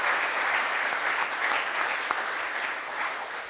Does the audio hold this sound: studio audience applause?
yes